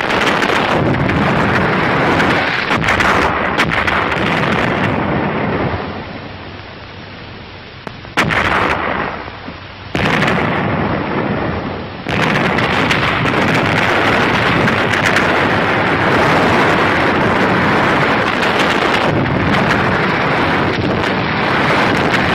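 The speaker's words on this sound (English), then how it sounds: "Enemy mortars and artillery were still zeroed in on the path of our advance." Mortar and artillery explosions in a wartime battle on fortified ridges: a loud, sustained rumble of heavy blasts and booms, with a brief lull midway, no talking.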